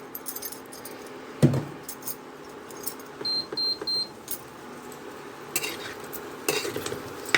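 Drumstick leaves (sajana saga) frying in a pan give a quiet background sizzle, broken by sharp metallic clinks and scrapes from a spatula stirring against the pan, while no one speaks.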